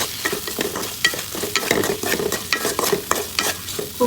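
Ground ginger, cumin, chilli, turmeric and salt stir-fry in a pan, a loud close sizzle churned by constant spatula movement, with rhythmic scraping swells and a few sharper knocks.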